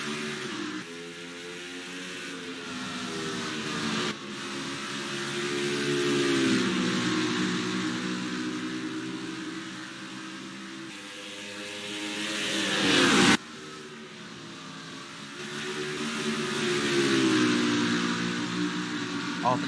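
Stock cars in a racing video game roar together as the green flag drops at the Mountain Dew 400 at Iowa, a steady layered engine drone that swells and shifts with sudden cuts.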